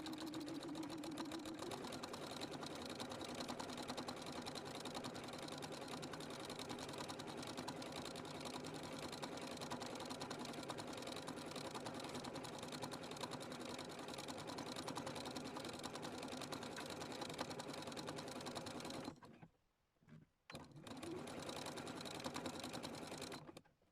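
A sewing machine stitches a felt strap in a steady, close, continuous whir for about nineteen seconds, then stops briefly and restarts near the end.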